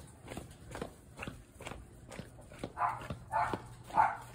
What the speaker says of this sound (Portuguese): Tô escutando o latido dela.